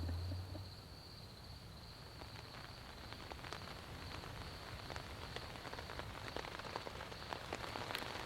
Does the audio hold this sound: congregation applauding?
no